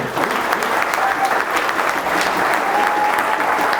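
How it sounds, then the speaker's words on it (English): Sustained audience applause fills a real estate wholesaling meetup in Chicago, a dense, steady wash of many hands clapping close by with faint crowd murmur underneath, holding evenly from start to finish. "So give yourself a round of applause again."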